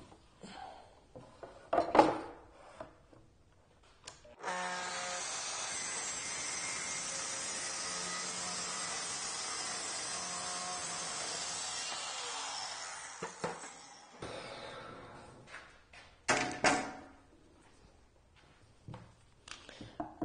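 A saw cuts a large miter through wood, running steadily and loudly for about eight seconds on its own after some brief handling knocks, then winding down.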